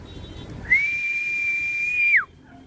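A single sustained whistle blast, roughly one and a half seconds long, steady in pitch and ending with a quick downward slide, is blown to call racing pigeons home. It is close and clear over quiet surroundings.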